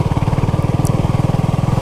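A Honda CB250RS 250cc single-cylinder motorcycle engine holds about 3,000 RPM on a green lane, its steady thumping exhaust pulses loud and close with no speech.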